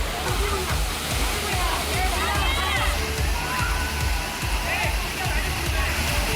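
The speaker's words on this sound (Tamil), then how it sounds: "கும்பக்கரை அருவியின் நீர்பிடிப்பு பகுதிகளான வட்டக்கனால் மற்றும் வெள்ளக்கவி பகுதிகளில் மழை இல்லாததால் நீர்வரத்து குறைந்துள்ளது" Kumbakkarai Falls pours steadily with a broad rushing roar while tourists bathe, water sloshing and splashing nearby, and voices and shouts are scattered through the steady noise.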